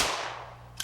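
A shotgun fired at a turkey: one sharp, loud blast right at the start that quickly decays into a fading tail, followed by a small faint tick near the end.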